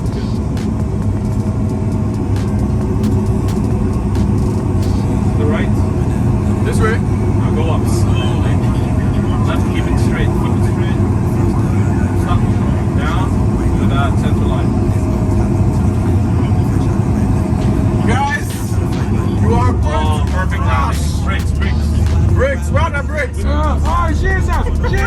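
An Airbus A380-800 airliner touches down as its engines are powered back, a loud continuous rumbling roar that shifts near the end, with excited voices talking over it throughout.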